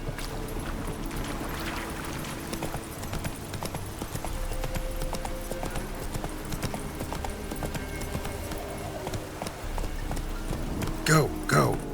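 A horse gallops in The Witcher 3, its hoof clip-clops running steadily under game music and ambient noise, with a brief burst of sound near the end.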